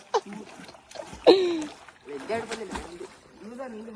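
Water splashes as someone dips into a bathing pond at a temple at Muchukunnu fort, with two sharp splashes amid excited voices talking close by.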